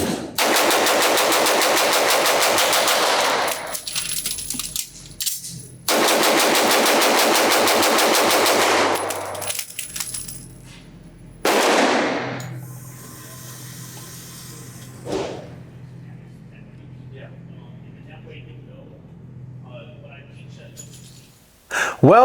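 A Beretta 92GTS Centurion pistol fired rapidly at a shooting range, two long loud strings of fast shots broken by a pause, then a lone shot and quieter range noise.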